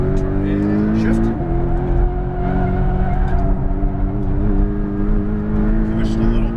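A Porsche Cayman GTS engine drones steadily from inside the car on a race track at Exotics Racing, a loud continuous hum with a brief pitch shift early on, and a voice talking over it.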